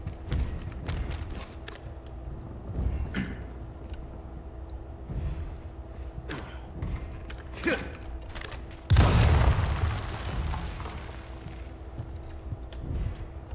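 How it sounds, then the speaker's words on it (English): A grenade explosion in the Resident Evil 4 Remake video game goes off as a sudden loud boom with a rumbling tail midway through, amid ongoing game ambience, clicks and mechanical noises. "so I'm going to throw a grenade in there"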